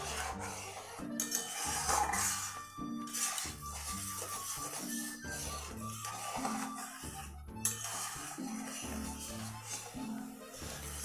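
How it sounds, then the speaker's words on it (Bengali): Semolina dough for gulab jamun is mixed, making repeated rasping, rubbing scrapes set against steady background music throughout. "এখন আমি ভালো করে মিশিয়ে নিচ্ছি।"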